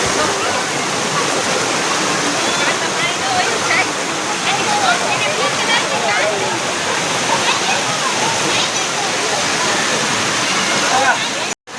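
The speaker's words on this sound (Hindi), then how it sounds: "मंदिर है पीछे कितना मस्त झरना बह रहा है" A waterfall behind a temple roars as a dense, continuous rush of falling water, loud and steady throughout, with faint voices mixed in.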